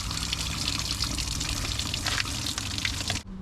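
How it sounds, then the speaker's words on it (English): Water pours hard and steadily out of a cleared BMW drain channel near the vacuum reservoir, a dense close splashing rush that cuts off abruptly at the very end. "As you can see, it's absolutely pouring out now."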